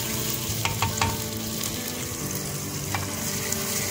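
Onions fry and brown in a pot over a wood fire, giving a continuous crackling sizzle with a few sharp scrapes and taps as they are stirred.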